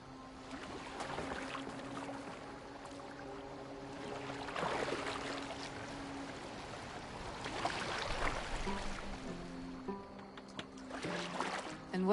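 A boat glides over water in Assassin's Creed Valhalla, a soft, faint rush and trickle of water under sustained musical tones, with splashes rising and falling.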